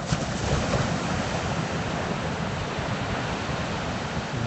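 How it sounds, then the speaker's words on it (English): Ocean surf rolls in at Ma'alaea Bay in Maui around sunrise, a steady broadband wash of breaking waves with a faint airy wind hiss and no distinct individual crashes, heard alone without voices. "Very much surf today"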